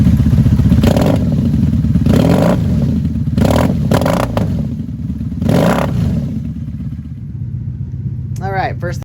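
A 1984 Honda Shadow 700 (VT700C) V-twin motorcycle idles with a loud, steady low rumble, broken by several short throttle blips that rise and fall.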